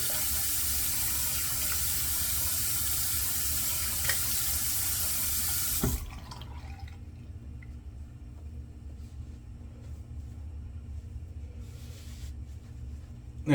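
Running water from a sink tap rinses a freshly shaved head, a steady broadband rush for about six seconds that then cuts off, leaving a quiet low hum with faint small splashes.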